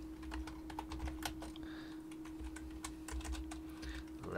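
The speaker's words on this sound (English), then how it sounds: "Oh, stupid keyboard. Fat fingers." Fingers tap quickly on a computer keyboard during a live 3D design session for a printable speaker enclosure, with irregular clicks close up over a faint steady hum and no speech.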